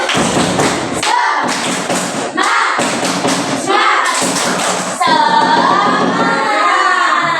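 Children do the rhythmic 'tepuk semangat' spirit clap, loud and close, with repeated bursts of patterned clapping and thumps separated by short pauses, alongside chanting voices.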